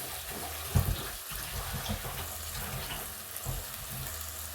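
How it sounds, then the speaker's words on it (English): Rice for pilau is rinsed under a running tap, a steady close splash and hiss of water with a few louder sloshes as the grains are swirled by hand. "I'm just washing my rice, guys."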